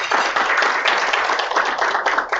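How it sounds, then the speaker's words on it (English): An audience claps steadily for event sponsors at a Monterey County business gathering, a dense, even round of applause from a modest crowd, fairly close, with no voices over it. "So just to give a round of applause"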